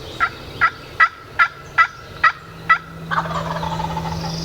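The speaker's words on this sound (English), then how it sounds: "But before long we got on the gobblers and we had one that was really close to us" A wild turkey gobbles close by in the woods during a hunt, seven sharp, evenly spaced calls in a row, followed by a rising rush of outdoor noise.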